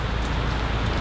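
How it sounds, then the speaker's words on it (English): Rain falls steadily outdoors at a park gathering in Heinlenville Park, Japantown, San Jose, a dense, even patter on surfaces with no voices heard. "it was Paul's bringing down the rain on us"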